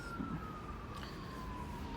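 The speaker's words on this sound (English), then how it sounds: "the fire engines came, like two of them" Fire engine sirens wail faintly from a distance, a single drawn-out tone that slowly slides lower over a quiet background hum, with no talking.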